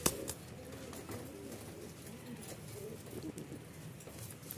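Soft, low pigeon coos come from a pair of pigeons, a male and a female, held up close. The cooing is faint and continuous over a quiet background, with a light tap near the start.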